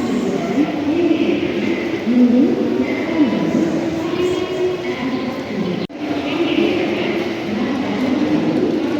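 A train rumbles and clatters at Howrah railway station, a continuous close rolling din with wheel hums, a brief dropout midway, and voices murmuring underneath.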